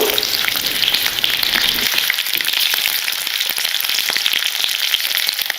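Green chillies fry in about two tablespoons of oil in a pan for a village-style chilli thokku, giving a loud, steady crackling sizzle throughout with scattered sharp pops and no voices.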